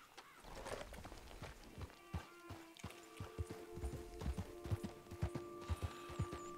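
Horse hooves clip-clop at a walking pace across the ground in the Red Dead Redemption 2 video game, a steady rhythmic patter of close, moderately quiet hoof falls with faint background ambience.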